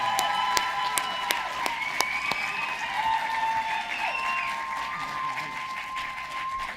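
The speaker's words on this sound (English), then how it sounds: "You're just cheering because I'm the last one." Audience applause with some cheering and whoops at a school awards ceremony as a principal is welcomed to accept an award, sustained clapping in a large room with a few sharp claps standing out and faint voices underneath.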